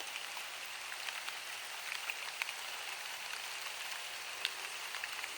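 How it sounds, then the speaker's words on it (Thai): Heavy rain pours steadily over a salad vegetable garden, a dense, even hiss with scattered sharper drops pattering close by, with no voices heard. "ฝนหนักขึ้นทุกทีนะคะ"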